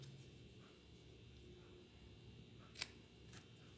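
Scissors snipping card stock from a paper craft kit, a quiet room with one crisp close snip and a fainter second cut shortly after.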